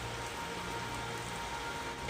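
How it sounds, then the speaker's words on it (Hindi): Heavy rain falls in a cartoon scene as a steady, even hiss of dense drops. It plays alone at a moderate level without a pause. "तेज बारिश शुरू हो गई।"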